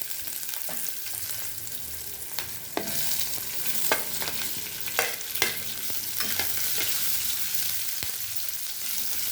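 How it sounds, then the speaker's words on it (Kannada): Green chillies and curry leaves frying in hot oil for masala dosa filling, a steady close sizzle broken by several sharp spatula scrapes and clicks against the pan, with no talking. "ಇವಾಗ ಮೆಣಸಿನ್ಕಾಯಿ ಹಾಕ್ತಾಯಿದ್ದೀನಿ."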